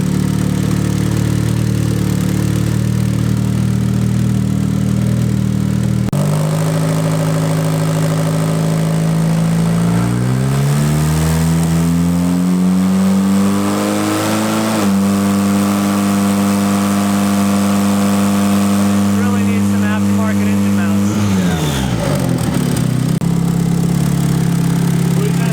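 A budget turbocharged Mazda Miata runs on a dyno, idling and then revving up and down repeatedly with rising and falling engine pitch, loud and close throughout.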